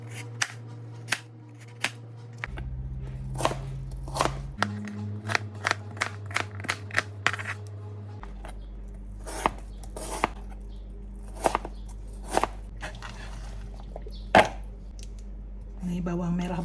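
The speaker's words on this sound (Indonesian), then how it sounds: "Jadi kentang nih kita potong segi 4 kecil-kecil aja." A knife chopping potatoes into small cubes on a board, with crisp, irregular cuts coming one after another close by, some louder strokes standing out, over a low background hum.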